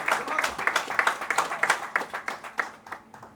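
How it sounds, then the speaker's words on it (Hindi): Audience applause at a Hindi youth poetry recital (kavi sammelan), a steady run of sharp, fairly close hand claps keeping up a quick rhythm for several seconds, with voices faintly mixed in. "200 तालियां रुकनी नहीं चाहिए।"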